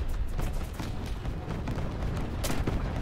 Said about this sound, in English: That was a terrible bomb drop on my part, though.